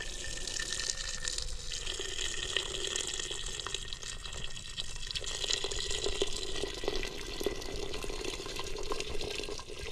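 Hot water pours steadily into a cooking pot on a charcoal jiko stove, a continuous splashing, gushing stream that holds at an even level throughout, close and fairly quiet.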